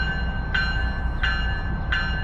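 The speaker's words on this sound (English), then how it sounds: "And this train heading in towards Boston" A commuter train at Dedham Corporate Centre station, heading in toward Boston, rumbles steadily nearby while three short, evenly spaced horn or whistle blasts sound over the low rolling noise; no one speaks.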